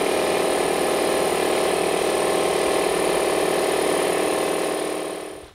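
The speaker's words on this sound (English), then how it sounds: "So the compressor is drawing 1100 to 1200 watts." An air compressor running off a Geneverse HomePower Pro 2 portable power station gives a loud, steady close-up motor drone that cuts off at the end.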